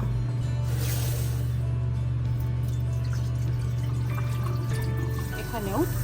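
About one and a half cups of water poured over rice in a pot before cooking, a continuous gentle splashing stream over a steady low hum, fading near the end.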